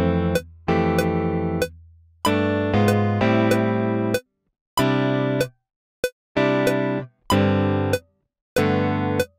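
Virtual guitar chords in math rock style play in a choppy rhythm, short bursts separated by sharp silences, clean and close with no voices.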